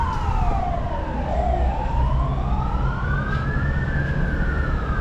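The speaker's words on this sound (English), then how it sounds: "And I hear lots of ambulances too." Several ambulance sirens wail in long sweeping tones, overlapping one another above a steady street rumble in Taipa, Macau, loud and unbroken for several seconds.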